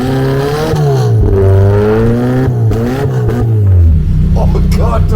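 A vintage Opel's engine revs hard, its pitch climbing and dipping in sweeping surges before dropping to a lower rumble, close and loud, with a voice faintly underneath.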